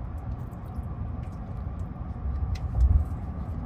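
A Ford car cruising hands-free on BlueCruise gives a steady low road rumble and cabin hum, rising slightly toward the end, with no talking.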